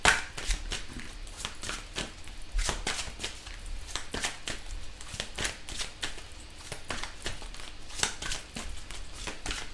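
Tarot cards handled and drawn from a deck, a rapid series of crisp papery flicks and slides up close, with no talking.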